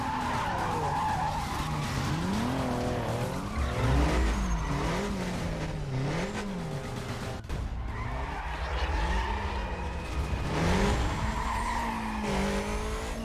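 A Supra races in Need for Speed Most Wanted. Its engine revs climb and fall repeatedly while the tires skid and squeal loudly through hard driving, with a brief sharp break partway.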